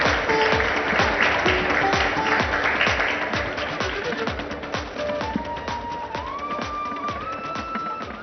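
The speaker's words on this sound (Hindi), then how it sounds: "जोरदार तालियां राज ठाकरे जी के लिए।" Audience applause for Raj Thackeray at a Maharashtra summit event, sustained steady clapping from a large hall crowd throughout, with a faint tone drifting in the background.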